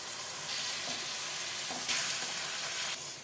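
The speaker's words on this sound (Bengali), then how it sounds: "অল্প জল দিয়ে মশলা কষিয়ে নিতে হবে" Ginger-garlic paste with turmeric, cumin, coriander and red chilli powder frying with a little water for chole paneer: a continuous close, bright hiss and sizzle that swells slightly partway through, with no talking.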